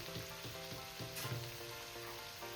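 Spice paste with ginger, green chilli and added salt sizzles and fries in a pan, a soft, steady crackle with faint rhythmic stirring scrapes, close and quiet, no voices.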